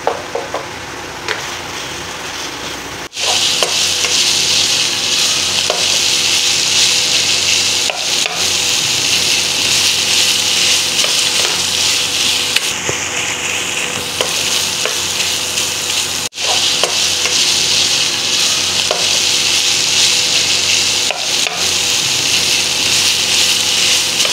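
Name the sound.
minced mutton qeema frying in a karahi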